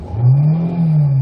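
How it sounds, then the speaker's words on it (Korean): A manual-transmission gasoline Hyundai Avante HD engine with 95,000 km revs up briefly and holds a loud, rising hum close by, with no one talking. "일단 RPM 한번 올려보도록 할게요"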